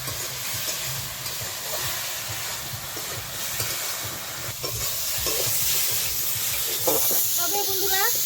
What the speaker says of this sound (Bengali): একসঙ্গে ভালো করে ভেজে নেব।